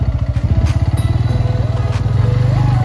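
A motorcycle engine chugs with a steady, rapid low throb, close and loud, while the bike is ridden off-road on a slippery rural track during Dashain.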